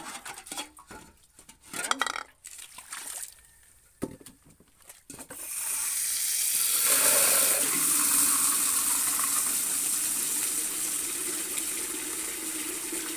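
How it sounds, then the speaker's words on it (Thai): Water is poured over a small dog during a bath. A few seconds of clattering and handling give way to a steady, continuous rush of water close by. "ก็จะ อาบน้ำให้กล้าแล้ว"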